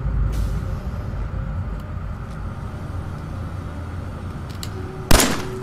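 A single sharp, loud gunshot in Fallout 4 cracks out near the end, cutting through a steady low background hum.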